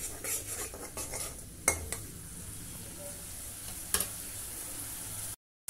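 Onion, garlic and tomato paste masala with curry leaves sautés in a pan, a low sizzle beneath occasional metal spoon clinks and stirring scrapes.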